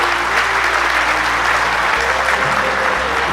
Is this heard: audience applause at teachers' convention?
yes